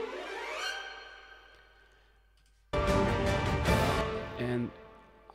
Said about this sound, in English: I'm combining strings and woodwinds here to do a little tension building with these runs patches